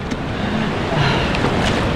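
Loud, steady roar of strong sea waves at a La Union beach, with heavy wind buffeting the microphone, a constant wash of crashing water filling the whole moment.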